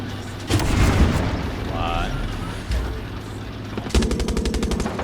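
Gunfire in the video game Far Cry 6: heavy booming shots and rapid automatic bursts, loud and close, with a fast rattling volley near the end and voices talking in between.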